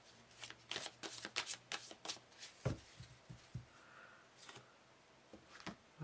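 A deck of playing cards is shuffled close up, giving bursts of rapid riffling and flicking in the first few seconds, then scattered softer taps and snaps with quiet gaps between them.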